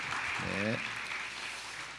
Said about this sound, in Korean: 우리 한번 박수로 우리 환영해 주시면 좋겠습니다